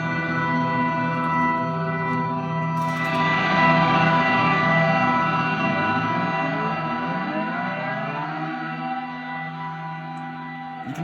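Electric guitar through a reverb pedal set fully wet, sustained washed-out chords with long smeared tails and no dry attack, a dense ambient drone that fades slowly.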